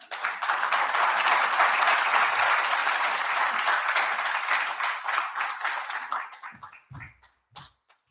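An audience at a Canada-Africa business conference in Namibia claps after a speech, a loud, dense burst of applause that holds for about six seconds before tapering off into a few scattered claps and brief sounds.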